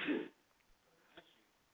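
A single short, sharp sneeze or cough-like burst in a classroom during a math lecture, fairly close and moderately loud, followed by quiet room tone and a faint small noise.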